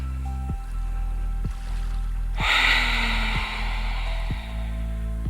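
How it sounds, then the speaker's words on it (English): A single long, deep breath drawn in during an evening yoga stretch, a soft airy rush rising midway and fading out, heard close over steady low sustained background tones. "One more deep breath."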